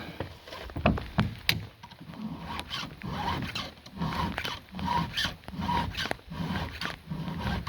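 A hand file sharpening the cutters of a square-ground chainsaw chain, repeated close rasping strokes in an uneven rhythm with short pauses between them.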